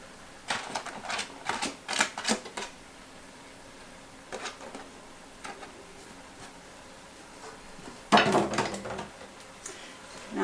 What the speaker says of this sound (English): Now I'm just going to stir these around